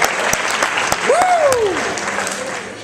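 An audience at a high school hypnosis show applauds in a steady, dense wash of clapping, with a voice rising briefly over the crowd.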